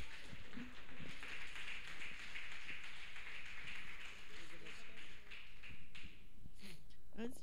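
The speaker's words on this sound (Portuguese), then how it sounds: "As suas palmas louvem o Senhor" A church congregation at a Brazilian worship service claps steadily in praise, a dense, continuous patter of many hands at moderate distance that fades near the end.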